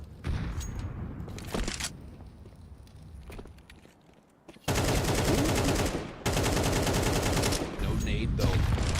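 Competitive Counter-Strike match play with scattered single shots giving way to sustained, loud automatic rifle fire in rapid bursts, with footsteps and clatter between.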